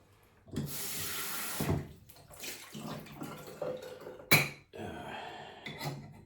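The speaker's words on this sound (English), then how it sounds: "might as well rinse the shaving stand too" Tap water runs loudly into a sink as a shaving brush and shaving stand are rinsed, the flow splashing and changing pitch as items move under it, with a brief clatter of the stand partway through.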